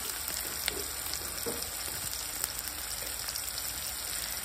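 Ingredients for vegetable upma frying in a pan at home, a constant low sizzle close by with faint occasional clicks of stirring, no voices.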